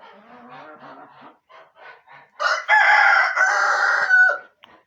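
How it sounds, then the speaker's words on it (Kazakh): Hens and roosters in a backyard flock of fourteen hens and four cocks cluck softly at first, then a rooster lets out a loud, drawn-out crow close by, followed by a brief final squawk. "14 тауық, 4 әтеш."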